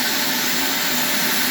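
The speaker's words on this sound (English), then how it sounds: "We'll get the shop vac clean." A shop vacuum runs in a garage workshop during a Kawasaki 250 Ninja engine inspection, a steady, loud, close whooshing roar with no variation over the short stretch.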